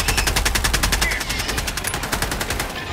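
Rapid automatic gunfire in the game Helldivers 2, a loud, fast, evenly spaced burst of shots running steadily for the whole stretch before tapering off.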